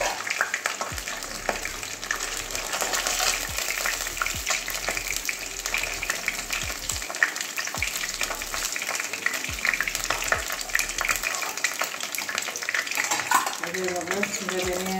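Local katla fish head frying in hot oil, a continuous crackling sizzle close by with repeated soft thumps and scrapes as the pieces are turned and lifted to drain.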